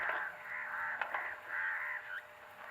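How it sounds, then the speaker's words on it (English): Crow-like cawing birds heard outside a garage with security shutters, several harsh caws in quick succession, fairly faint and alone with no talk. "that sounds like a bird"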